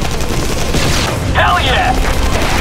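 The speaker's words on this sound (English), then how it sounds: "Taking heavy fire! We're taking serious damage!" Heavy gunfire and explosions rage in the PC strategy game Anomaly Warzone Earth, a loud, dense barrage of rapid shots and booms, with game voices shouting over the battle.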